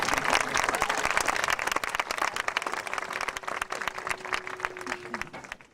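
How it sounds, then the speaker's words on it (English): An audience applauds a high school senior class with sustained, steady clapping from a crowd, full throughout and tapering slightly at the end. "You can clap for that."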